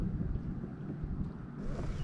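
Fishing boat idling on Crab Orchard Lake, a steady low engine rumble with wind buffeting the microphone, continuous and close.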